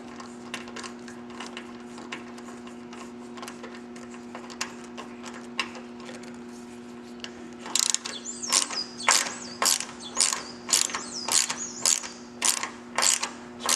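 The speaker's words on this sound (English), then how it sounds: "Nothing falls out, just take that bolt out." A 6mm Allen wrench ratchets a long bolt out of a cross-country bicycle's lower suspension link, giving a run of crisp, close clicks that turn quick and louder in the second half over a steady mechanical hum.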